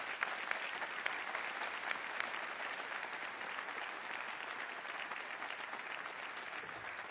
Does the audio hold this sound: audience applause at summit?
yes